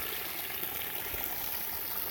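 Water runs steadily into a bucket while washed clothes are rinsed by hand in an off-grid setup, a constant soft trickling wash with no breaks and no voices.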